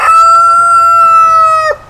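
A rooster crows one long, loud, sustained call close by, holding steady for nearly two seconds before breaking off, with no talking over it.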